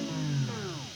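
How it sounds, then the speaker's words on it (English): A tape stop effect on the left and right guitars closing out a chord progression, with pitch sliding steadily downward as the sound slows and sags over about a second, moderately loud with no voices. "we use a tape stop effect"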